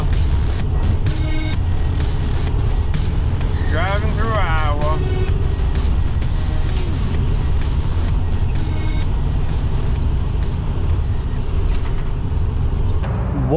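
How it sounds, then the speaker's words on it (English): Steady engine and road rumble from a cargo van driving on a highway through Iowa, a constant drone throughout with brief higher tonal sounds midway; people talk over it. "Driving through Iowa."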